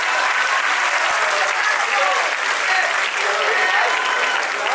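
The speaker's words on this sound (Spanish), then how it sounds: "Y nuevamente un aplauso para ellos" An audience at a graduation ceremony bursts into loud, sustained applause, a dense crackle of many hands clapping steadily throughout.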